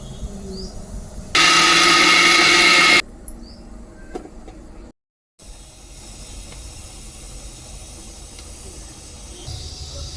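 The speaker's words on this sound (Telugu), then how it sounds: "3 పెద్ద సైజు టమాటాలు, ఇవన్నీ మిక్సీ వేయాలి." A mixer grinder blends tomatoes, cumin and green chillies in a loud, roaring burst of under two seconds, followed by quieter room noise and faint clinks.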